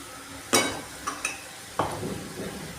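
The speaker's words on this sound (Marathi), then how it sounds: "आता इकडे मी मिक्सरला लावून वाटलेले वाटण ते याच्यात टाकणार आहे." A mixer-ground spice paste for a spring onion greens dish hits the hot pan with a sharp sizzling burst, followed by a couple of utensil clinks and a second sizzle as it is stirred in, close and unaccompanied by speech.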